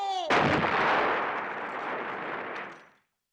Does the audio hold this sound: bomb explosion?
yes